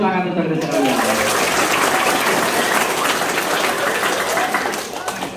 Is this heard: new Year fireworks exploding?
no